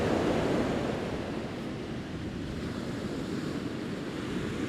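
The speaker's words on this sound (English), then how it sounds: "Look at the sea." Sea surf breaking on the Isle of Wight shore during Storm Eowyn, a steady, loud roar of waves mixed with gusting wind buffeting the microphone, continuous throughout with no voices.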